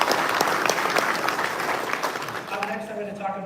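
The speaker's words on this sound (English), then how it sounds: "a round of applause for them." An audience gives a round of applause at a live flight-sim expo, with dense clapping that is loud at first and gradually thins out, while a voice speaks over the fading applause.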